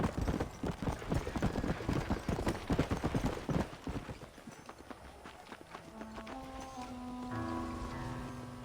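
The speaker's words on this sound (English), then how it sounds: "Oh, this is my horse?" Hooves of a horse clip-clop in Red Dead Redemption, a fast steady gallop close up that slows and fades after a few seconds as a soft music tone rises beneath.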